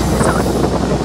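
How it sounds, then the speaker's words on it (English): Wind of about 15 miles an hour buffets a sailboat on the Chesapeake, a loud, continuous low roar of gusts against the microphone with no break over the short moment. "we got like 15 mile an hour winds"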